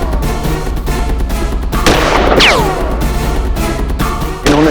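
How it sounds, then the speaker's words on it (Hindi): A single gunshot fired during a dramatic courtroom-style scene, a sharp loud crack followed by a falling ringing tail, set in a dense background of music or ambience. "इन्होंने सर्वप्रथम बंसल जी पर गोली चलाई"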